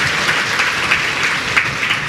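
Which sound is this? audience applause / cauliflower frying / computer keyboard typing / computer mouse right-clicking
audience applause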